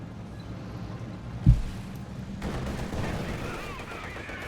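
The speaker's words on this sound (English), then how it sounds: "Packs shoot, and both of them miss the T-70 light tank here." In Company of Heroes 2, a Pak anti-tank gun fires one sharp, booming shot amid low rumbling battle noise, followed by a softer distant report a second later.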